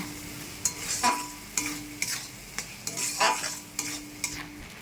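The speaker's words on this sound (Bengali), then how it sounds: "সব কিছু ভালো করে মিশিয়ে নেব" Ground spice paste stirred in a pan of shrimp and potato curry: a soft frying sizzle broken by repeated scraping strokes of a spoon at an uneven rhythm, close and fairly quiet.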